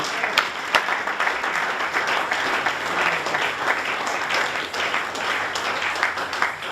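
A church congregation applauds and cheers during a service, dense steady clapping from a crowd with scattered louder claps and voices mixed in, sustained throughout.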